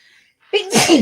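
One loud, close sneeze bursts out after a moment of near silence, a quick intake followed by a sharp explosive release.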